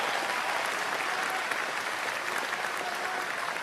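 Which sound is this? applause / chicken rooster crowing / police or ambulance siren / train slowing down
applause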